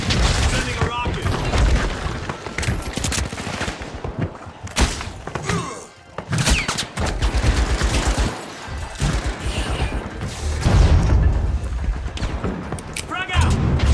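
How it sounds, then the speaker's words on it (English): A rocket launches and bursts in a multiplayer shooter, with heavy booms and thuds among scattered gunfire and clattering effects, loud and close, while people talk over the action. "Sending a rocket!"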